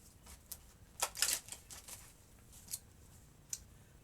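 Playing cards being shuffled for a tabletop card game, heard as a few faint crisp riffling bursts and snaps, with one quick flurry of card flicks near the start and isolated clicks after, with no talking.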